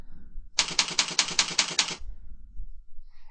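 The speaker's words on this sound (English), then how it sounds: "then you'll type in the username that you want" A quick burst of computer keyboard typing, about a dozen rapid, evenly spaced clicks over a second and a half, close by, with near silence before and after.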